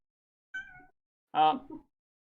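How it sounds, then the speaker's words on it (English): A pet cat meows twice, a shorter call followed by a louder, fuller one, close and clear against silence. "That is a cat."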